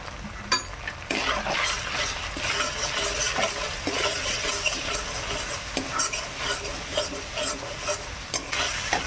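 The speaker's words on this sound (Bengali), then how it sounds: "মশলাটা ভাজা হয়ে গেছে" Steady sizzling of ground spices and chilli powder frying in a pan, with scraping stirs and occasional clinks of a utensil against metal, close and continuous.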